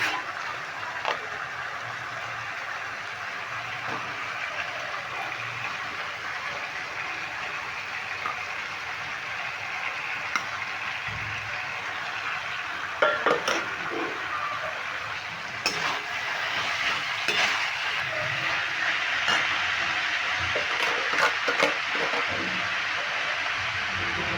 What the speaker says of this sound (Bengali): এখন আমি সেদ্ধ করে রাখা মোচাটা দিয়ে দিচ্ছি